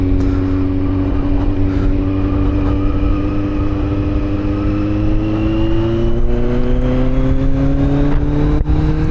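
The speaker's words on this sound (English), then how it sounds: "you can hear the engine braking of the inline 4." A Kawasaki Z900 inline-four motorcycle engine braking on a road ride, its loud close engine note humming steadily with tones that slowly sweep upward, under heavy wind rush.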